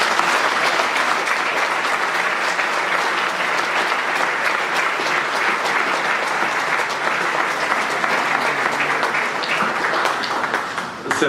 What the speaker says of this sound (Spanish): Peço a todos uma salva de palmas